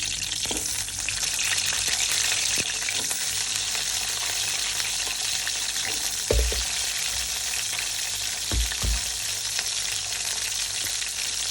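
Garlic and small shallots fry in hot oil with a continuous close, even sizzle, interrupted by a few soft stirring thumps and scrapes of a utensil in the pan.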